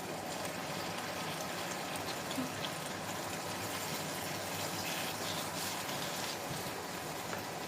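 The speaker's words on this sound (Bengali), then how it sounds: "এবার আমি জলটা অ্যাড করব, একটু ভালো করে মিশিয়ে নিই।" Water poured into a cooking pan while making paneer kadipatta: a steady, full rushing wash that holds at an even level throughout, with no talking.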